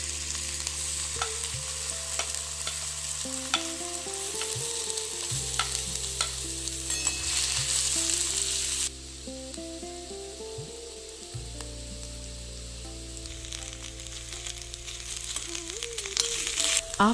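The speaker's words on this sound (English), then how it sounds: "Let the oil heat for 2 to 3 minutes and add the chopped Karela to the curry." Chopped bitter gourd (karela) fries in heated oil, producing a steady hissing sizzle with occasional stirring sounds beneath continuous background music.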